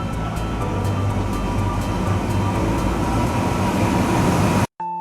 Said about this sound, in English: Here comes the train.